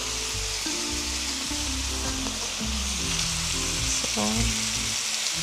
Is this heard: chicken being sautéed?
yes